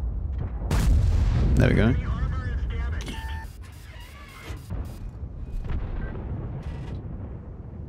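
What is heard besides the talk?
tank cannon firing in World of Tanks video game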